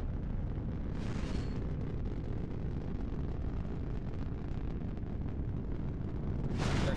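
Enemy shelling in a naval video game battle: a steady, heavy rumble of distant fire with a couple of brighter bursts near the start and end.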